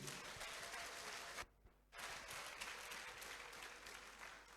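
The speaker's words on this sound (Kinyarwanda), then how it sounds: "Kaduhe Yesu icyubahiro, tumukomere amashyi arakwiriye." Audience applause at a church sermon, a dense crowd clapping that pauses briefly and then resumes, fairly distant and moderately loud.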